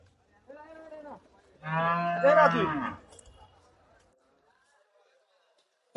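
Cattle at a cattle market give two moos close by, a short call followed by a longer, louder bellow, then quiet.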